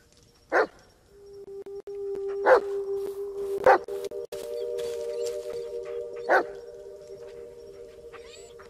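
A dog in the video game Blair Witch barks several times, a few sharp, fairly close barks spread seconds apart over a steady electronic hum, with no talking.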